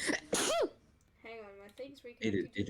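A single sharp human sneeze bursts out near the start, close and loud, followed by casual speech from the person talking about a chat connection.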